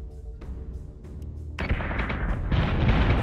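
Missile fire in the space combat game Battlestar Galactica Deadlock: a low rumble swells into a loud, dense roar of booming launches and blasts that keeps building to the end.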